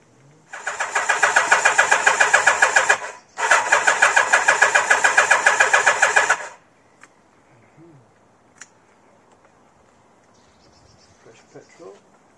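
A Kawasaki GT550 G1 motorcycle, cold after a long winter, cranks on full choke in two loud rhythmic bursts of rapid chugging, separated by a brief pause, then falls quiet with faint ambient sounds.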